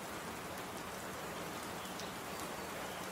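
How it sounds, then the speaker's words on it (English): Rain falls outside in a steady, even hiss of drops on surfaces, continuous and moderately loud with no voices. "It's raining out."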